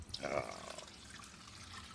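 Liquid is poured quickly into a pan for homemade bread in a tiny house in the Philippines, making a short splashing gush that fades into a quiet room.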